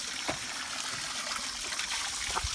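Water trickles steadily from a roadside water supply on a route toward Bhojpur in Nepal, a continuous close splashing wash with no talk over it.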